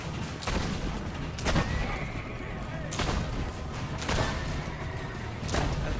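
Enemy gunfire in the Assassin's Creed Brotherhood video game, several loud crackling shots at roughly one-second intervals in a canyon, with a player talking throughout.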